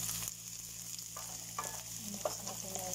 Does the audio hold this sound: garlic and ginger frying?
yes